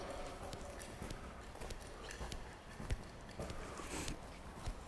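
An Olympic-level mare gallops on an arena during a flatwork training session, her hoofbeats coming as a faint, steady clip-clop rhythm under light background noise.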